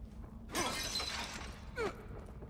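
Small clay pots being smashed in The Evil Within video game, a loud crash of shattering ceramic with scattering debris, then a second shorter break, with no talk.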